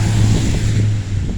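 Steady low engine rumble of passing vehicles on a road during light snowfall, loud and continuous with no pauses.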